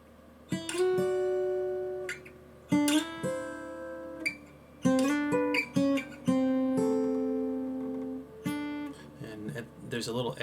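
Guitar picking out the intro to a song, clear plucked notes ringing and sustaining in a steady melodic pattern, played alone and up close.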